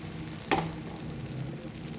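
Rice flour batter hitting a hot nonstick pan for soruchakli pitha, a single sharp splash-like sizzle burst then a soft, low steady sizzle fading under faint kitchen hum.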